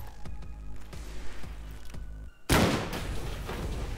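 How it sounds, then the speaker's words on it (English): Pistol shots in the card-based shooter Rise of Humanity come as a series of soft, regular thumps over game music, followed by a sudden louder burst of noise as the final hit lands. "let's finish off with the pistol."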